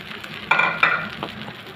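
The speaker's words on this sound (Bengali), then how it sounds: "শুটকির সাথে সয়াবড়িটা আমি ভালো করে ভেজে নিচ্ছি।" Ground soya chunks frying with dried fish in a pan, giving a soft steady sizzle with a couple of louder stirring scrapes near the middle, close and fairly quiet.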